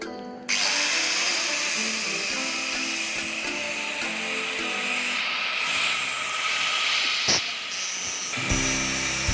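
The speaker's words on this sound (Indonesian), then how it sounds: "Oke, kita gerinda ya, kita buang bagian pengaitnya, itu bagian kita ratakan" An angle grinder cuts off the rubber retaining pins of the clutch on a Honda CB150R, giving a loud, steady, high-pitched whine that starts abruptly and holds with slight rasping changes in pitch as it bites into the part.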